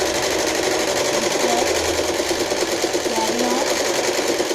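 A sewing machine runs steadily, stitching a long straight or curving seam in fabric for fringe pajamas, a continuous close mechanical whir with a brief spoken remark over it.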